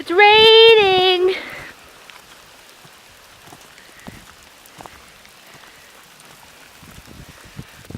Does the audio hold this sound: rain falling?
yes